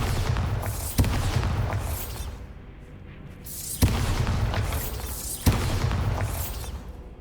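Magical Bombarda blasts from the video game Hogwarts Legacy, set in a Hogsmeade shop: three booming explosions with sharp onsets, each followed by a rumbling roar that fades before the next, evenly spaced and loud throughout.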